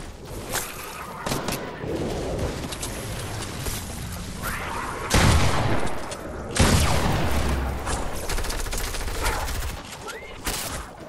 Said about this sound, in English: Hey, is someone shooting at me?